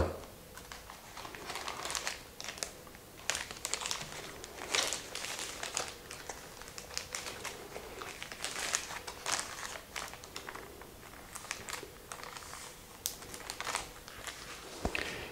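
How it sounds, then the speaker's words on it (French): Plastic zip-lock freezer bags crinkle and rustle as orchid seedling boxes are placed inside them, with irregular close crackles and scrunches continuing throughout at a fairly quiet level. "je place chaque boîte dans un sac congélation avec fermeture zip"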